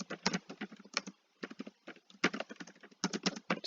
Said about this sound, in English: Just typing that into B.